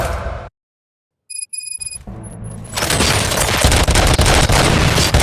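Sudden loud, dense gunfire in a scene involving police robots, a sustained chaotic barrage that erupts after a brief silence and a few high electronic beeps, close and harsh through to the end.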